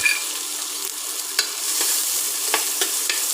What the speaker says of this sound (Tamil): இதில் நான் கட் பண்ணியிருக்கிற சின்ன வெங்காயம் அதை ஆட் பண்ணிக்கலாம்